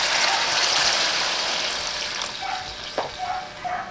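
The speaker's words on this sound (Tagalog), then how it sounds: "Pwede na natin lagyan yan ng tubig" Water is poured into a pan of browning pork, bringing a steady rushing, sizzling wash that gradually settles into bubbling with a few metallic clinks, close and loud.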